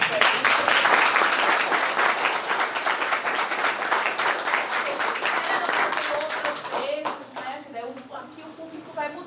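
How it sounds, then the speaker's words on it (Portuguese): Audience applause at an independent film screening in a school venue, dense steady clapping from a crowd lasting about seven seconds before thinning into a few scattered claps and murmuring voices. "Uma salva de palmas aí."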